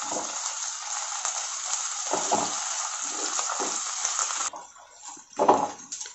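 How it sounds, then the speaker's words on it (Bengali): Onion and ginger-garlic paste fry in a pan while being stirred: a close, steady hiss for about four seconds gives way to quieter, intermittent scraping and stirring sounds. "এটা দিয়ে এটা 1 মিনিট মতো আমি নেড়ে নেব"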